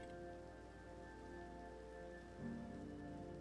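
Soft Minecraft rain patters steadily and quietly under gentle background music, with a faint low swell near the end.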